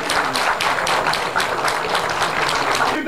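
A crowd at a Fındıklı municipal opening ceremony claps for Süreyya Şişmanoğlu, a dense, even burst of applause that holds steady for a few seconds.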